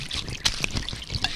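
Brandy poured from a bottle onto the ground, a close, continuous trickling splash with small irregular spatters across a short stretch, with no talking.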